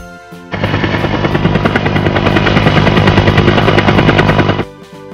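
Loud rhythmic rotor chopping from a cartoon helicopter starts suddenly, holds steady and close for about four seconds, then stops sharply.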